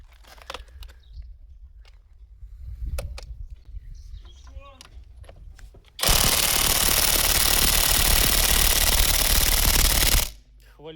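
An electric impact wrench, in a Dnipro-M versus Leader comparison, hammers on a screw in one loud, dense, continuous rattling burst of about four seconds, preceded by quiet handling noises and faint voices.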